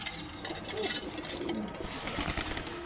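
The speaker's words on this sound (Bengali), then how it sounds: "আমি একটু নরের ডাকটা দেখাই দিই" A male pigeon of a large pair coos in deep, repeated rolling calls close by, with faint background noise and no clear talk.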